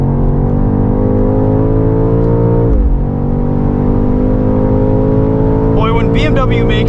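Engine of a 2024 BMW X6 M Competition SUV heard from inside the cabin, a steady loud drone with a brief dip near the middle, then rising. Talk comes in briefly near the end.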